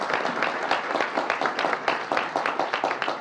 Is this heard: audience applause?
yes